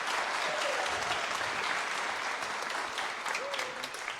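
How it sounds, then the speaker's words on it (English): Loud, sustained applause from a demo day audience, dense clapping filling the room evenly throughout with a faint whistle or two. "Big round of applause."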